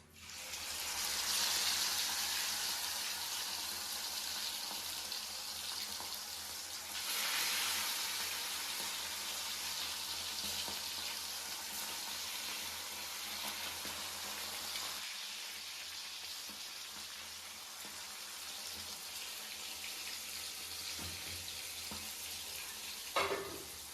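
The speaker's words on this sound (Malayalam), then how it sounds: "അതേ വെളിച്ചെണ്ണ അതിലാണ് നമുക്ക് ചിക്കൻ പൊരിച്ചു കൊടുക്കാം" Chicken pieces frying in coconut oil for a Malabar biryani, a steady broadband sizzle running close and fairly loud throughout, with brief surges as pieces are stirred and no talk.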